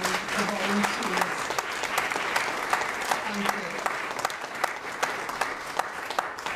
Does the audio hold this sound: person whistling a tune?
no